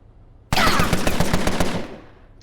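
A burst of automatic gunfire from the video game Empire of Sin hits with a loud, rapid string of closely spaced shots that lasts about a second and a half and then fades out.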